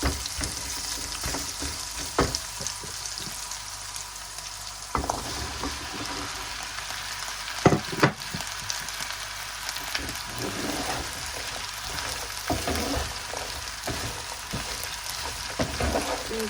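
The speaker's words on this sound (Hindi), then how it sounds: "इनको 4 से 5 मिनट के लिए 5-6 मिनट के लिए फ्राई कर लेंगे" Okra and onions fry in a pan for masala bhindi, a steady soft sizzle with occasional louder stirring scrapes and clinks throughout.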